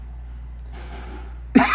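A single abrupt cough breaks in near the end after quiet, low background hum, loud and close to the microphone.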